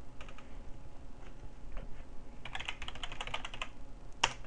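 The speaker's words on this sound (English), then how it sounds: "And we'll just type in some gibberish." Someone types random gibberish into a password prompt on a computer keyboard: a sparse run of key clicks that turns into a fast, dense burst of close keystrokes, with one sharp final tap.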